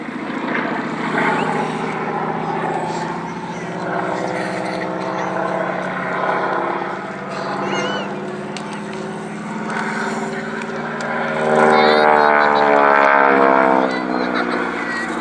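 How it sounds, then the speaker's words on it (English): T6 Texan (Harvard) propeller trainer flying at an airshow, a loud, sustained droning engine and propeller roar that swells and wavers as it passes. "It was, in all respects, a very significant aircraft, the T6 Texan or Harvard."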